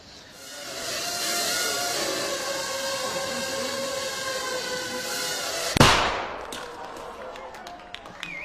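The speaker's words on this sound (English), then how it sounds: "That little bang is enough to penetrate the skull and destroy the contents." A small 3-gram shaped explosive charge detonates in one sharp, loud bang partway through, cutting across a steady whirring drone and leaving a brief fading tail afterward.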